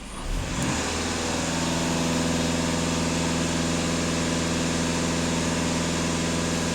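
A VW Passat 2.0 TDI diesel engine held at about 2500 rpm with the throttle floored during DPF and EGR cleaning, a steady loud drone with strong harmonic hum after a brief rise at the start, close and alone.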